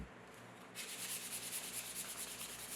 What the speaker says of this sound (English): I'm just rounding them a little bit with sandpaper.